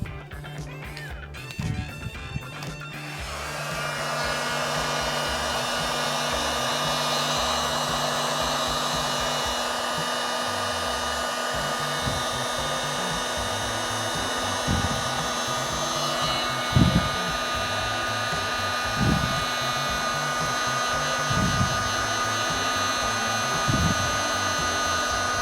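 A heat gun blows steadily for over twenty seconds, shrinking heat shrink tube on a fishing lure, with a constant whooshing hum and occasional faint knocks after a few clicks at the start.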